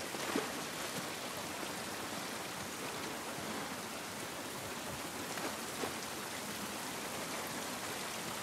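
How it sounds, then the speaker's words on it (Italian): Steady, dense rain falling continuously in The Last of Us Part I video game, a soft hiss with no pauses and no voices. "Questa pioggia non va bene. Se non va bene, che ci vuoi fa? E piove."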